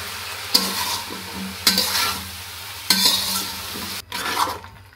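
Aubergine and potato ghonto cooks in a pan, with three or four bursts of sizzling as it is stirred, separated by quieter gaps, then a brief softer stir at the end.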